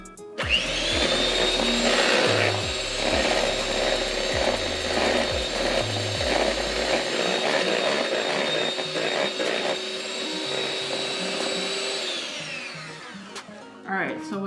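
Electric mixer blending batter with eggs for cheesecake, a loud close whirring motor with a rattling edge that runs steadily for about twelve seconds before shutting off, a brief voice heard at the start.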